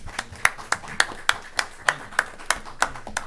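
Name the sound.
audience applause at board meeting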